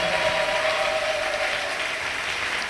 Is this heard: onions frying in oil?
no